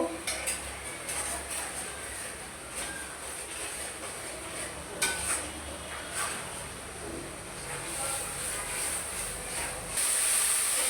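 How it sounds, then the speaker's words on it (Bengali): Spices with coriander powder are stir-fried in a pan: steady sizzling hiss with repeated scraping and clinking of a spoon against the pan, moderately close and continuous. "এখন দিয়ে দিব ধনিয়া গুঁড়ো, দিয়ে ভালো করে মশলাগুলো কষায় নিব।"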